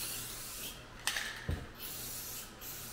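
Two short, quiet hisses of a spray can laying clear coat onto a welded Toyota Tacoma transmission skid plate, with near-silence between the bursts.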